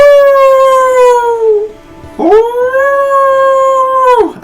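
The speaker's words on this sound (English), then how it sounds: "Outside of the tavern, you hear two large hounds howling." Two large hounds howl outside a tavern, loud and close: one long sustained howl that trails off, a brief pause, then a second rising howl held steady before dropping away, with no voices.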